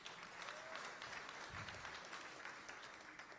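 Steady audience applause fills the room at a political address by Kamala Harris, a dense, continuous wash of many hands clapping at even loudness throughout, with no pauses.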